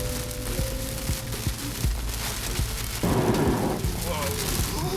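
Heavy rain during a thunderstorm in Tornado Alley near Oklahoma City, a steady dense wash of downpour with low rumbling underneath and a louder burst of rain partway through, with a voice talking over it.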